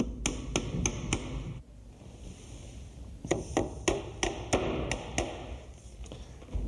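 Hammer strikes tacking a door jamb in place: two quick bursts of sharp, close metallic taps, four rapid blows, a pause, then six more in steady rhythm over faint room noise.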